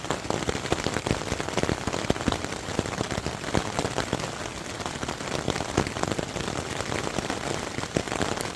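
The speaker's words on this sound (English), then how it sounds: "It rained all night long" Rain patters steadily on a tent at night along the Pacific Crest Trail, a dense, continuous crackle of drops striking fabric at close range with no voices.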